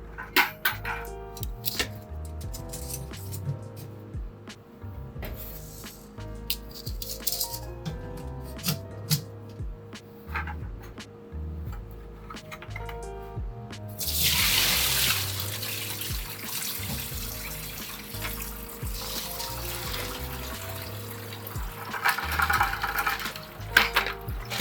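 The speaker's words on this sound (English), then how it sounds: "We're just going to want to drain the water from the grain." Water pours and trickles steadily as soaked grain is drained, with occasional clinks of a pot or strainer, growing into a fuller rushing flow partway through.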